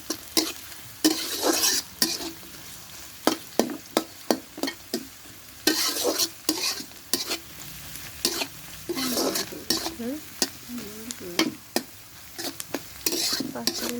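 Onions fry in a pan for coconut milk pulao, a steady sizzle broken by repeated sharp scrapes and stirring strokes of a utensil against the pan, close and loud.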